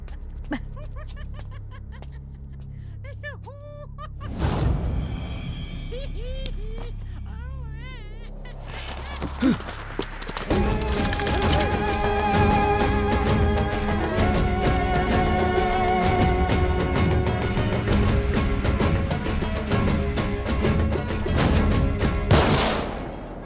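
In a Hindi-dubbed South Indian film scene, voices speak tensely before sharp, loud gunshot bursts ring out, followed by a dense, chaotic wall of noise and commotion.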